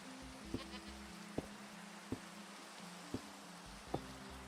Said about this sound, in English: How you doing, goat?